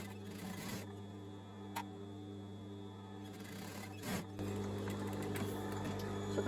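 Overlocker stitching elastic onto bikini fabric, a steady close mechanical whir running throughout with a brief pause and restart partway.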